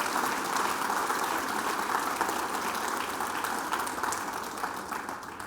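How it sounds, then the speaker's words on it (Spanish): A lecture hall audience applauds warmly, many hands clapping in a steady, dense patter that gradually eases in volume toward the end. "¿Podemos dar un aplauso?"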